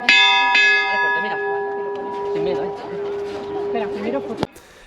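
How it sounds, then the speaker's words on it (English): A large bell, La Campana, is struck once at the Magdalena festival and rings out loud and close, its long humming tone decaying while a voice talks over it, before a sharp knock near the end. "the La Campana, the bell that everyone comes to ring"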